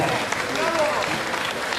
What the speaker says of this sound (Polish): Wielkie brawa, wielkie gratulacje